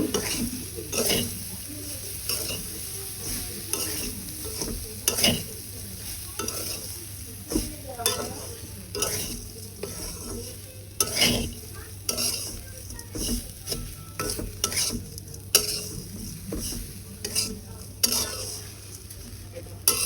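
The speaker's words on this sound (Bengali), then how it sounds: "নারকেল কুড়গুলো দিয়ে আমি ভালোভাবে সামাইয়ের সাথে নেড়ে চেড়ে মিশিয়ে নিব" A utensil stirs and scrapes laccha semai vermicelli mixed with grated coconut in a hot pan, made dry without milk. Irregular scraping strokes ring out over a soft continuous sizzle, with no talking.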